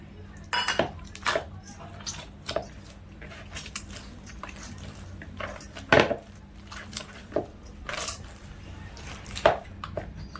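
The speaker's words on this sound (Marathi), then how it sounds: "असं मळून मळून घ्यायचं" Chapati wheat dough being kneaded by hand as water is worked in: irregular soft squishes, slaps and pats, with occasional sharper knocks against a vessel, close and fairly quiet, with no talking.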